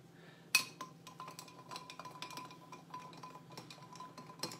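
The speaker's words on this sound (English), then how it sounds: "Stir it through." A spoon stirs a chocolate-orange cocktail in a glass, a sharp clink at the start and then a run of quick, light tinkles against the glass that continues steadily throughout, fairly close with a low room hum underneath.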